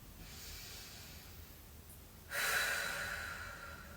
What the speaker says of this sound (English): Let's take 2 more breaths here.